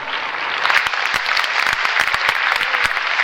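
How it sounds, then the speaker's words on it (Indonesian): A church congregation claps in praise during a sermon, dense sustained applause with sharp individual claps standing out, loud and continuous for a few seconds. "Tepuk tangan buat Tuhan."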